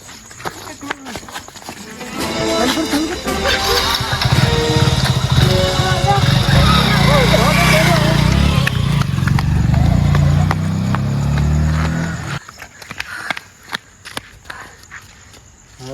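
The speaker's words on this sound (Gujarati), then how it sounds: "અલ્યા મિતેશ હાલા સોર તો બાઈક લઈ ગયા" A motorcycle starts up and is ridden away. A loud, rough engine drone swells for about ten seconds and then cuts off abruptly, leaving scattered scuffs and knocks.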